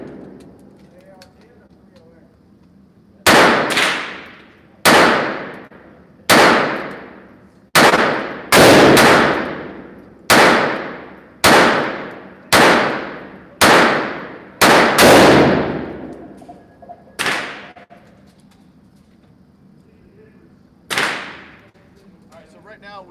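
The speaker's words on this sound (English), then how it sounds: "Right now we're shooting some Winchester through it." Walther G44 rifle firing Winchester .22 rounds outdoors, about a dozen sharp, loud shots at a steady, roughly one-per-second pace, with two later separated shots and faint background sounds between.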